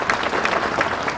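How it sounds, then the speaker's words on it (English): A school audience applauds as someone is sent off from the front, a steady mass of claps filling the hall at close range. "Give her a nice round of applause"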